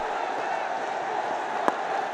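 Steady roar of a large cricket stadium crowd at a Bangladesh Premier League T20 match, Noakhali Express against Sylhet Titans, a dense continuous murmur with one brief sharp crack standing out near the end.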